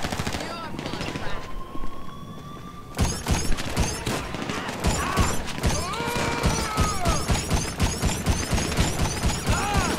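Gunfire in GTA Online comes as rapid, dense volleys of automatic shots, loud and near, after a quieter stretch with lighter sounds, continuing nearly without pause through most of the clip.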